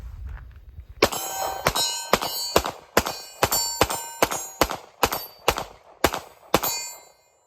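A Kimber CDS9 pistol is fired in a steady string of about a dozen loud, sharp shots, each cracking with a metallic ring, spaced roughly half a second apart and close by.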